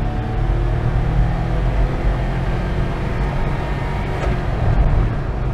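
Cabin of a small Suzuki JDM imported truck on the move, a loud, constant low engine and road drone filling the space with no voices.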